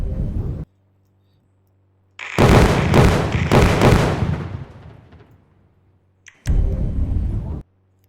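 A bomb goes off in a zombie war video game as two heavy rumbling blasts, each loud and sustained for a second or more with a decaying tail, separated by near silence.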